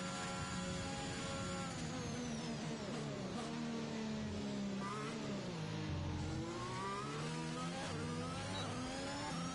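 Alpine Formula 1 car engine on a flying lap in a racing video game, a loud continuous high-pitched whine that rises and falls through gear changes and corners, with no talk over it.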